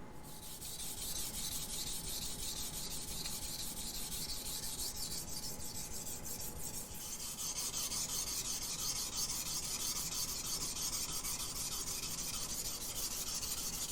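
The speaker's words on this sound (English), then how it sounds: "So first thing I'm going to do is sharpen this, raise a burr on both sides" A knife blade rubbed steadily back and forth across a whetstone to raise a burr, a continuous close grinding rasp that stays even and unbroken throughout.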